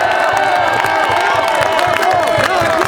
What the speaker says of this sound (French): je vous demande un tonnerre d'applaudissements à Daniel Obono qui est à mes côtés